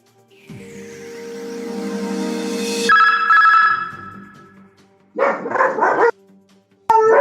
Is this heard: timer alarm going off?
no